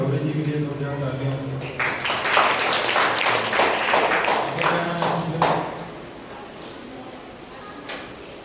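Church congregation at a Sunday morning service claps to welcome a first-time woman visitor, a burst of scattered clapping rising under a voice, then thinning out into sparse claps.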